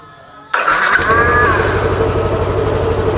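A Yamaha NMAX scooter's starter motor cranks after its starter cables are jumped, starting with a sudden loud whir and holding a steady, close mechanical hum.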